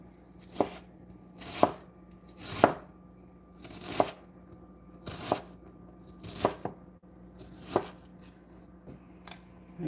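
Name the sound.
chopping onions with a knife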